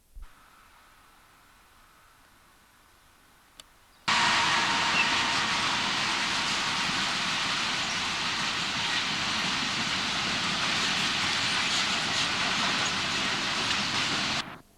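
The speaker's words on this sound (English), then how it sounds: "a Class 153 unit is seen, leaving Retford Lower Station on its way to Worksop" Class 153 diesel unit leaving Retford Lower Station, heard after a quiet opening as a sudden, loud, steady broadband roar and rush that holds for about ten seconds before cutting off.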